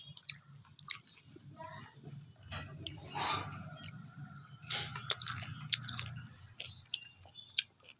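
Close, soft chewing of a home-cooked Bengali meal, wet smacking and small crunchy bites in an irregular rhythm, with a few faint clicks and low room rumble underneath.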